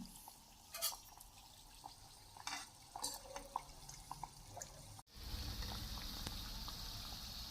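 Matar kachori, pea-filled pastries, frying in hot oil: soft drips and clinks come first, then a steady, fairly loud sizzle takes over for the last few seconds.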